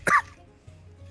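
A man coughing after choking on a jalapeno: two short, sharp coughs close to the microphone, separated by a quiet pause with faint low background hum.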